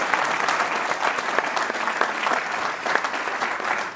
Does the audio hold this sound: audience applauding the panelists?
yes